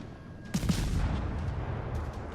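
A warship's guns fire in World of Warships: Legends, the Polish destroyer ORP Blyskawica, giving a couple of quick booming shots followed by a rumbling, fading naval battle backdrop.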